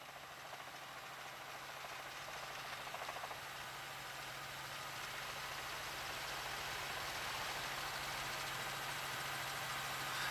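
A constant engine drone with a steady whine and vibration from a police helicopter hovering overhead during a Phoenix car chase, holding a level loudness throughout.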